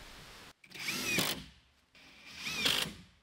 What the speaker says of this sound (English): Just going to use these screws to get this attached.